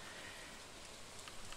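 Steady rain from the video game Stardew Valley, an even wash of close, moderately loud falling rain with no pauses or voices.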